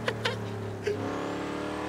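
A game-modelled Mustang engine blares loud and close, holding a steady rev with a few sharp bursts near the start and one after the midpoint.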